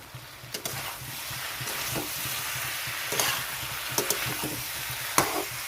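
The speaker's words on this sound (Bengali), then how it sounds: "এখন আমি এটা খুব ভালো করে কষিয়ে নেব" A fish and elephant-foot yam curry fries in a pan, a low steady sizzle broken by a few sharp scrapes and knocks of the stirring spoon, with no voices.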